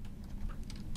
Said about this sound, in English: Here I type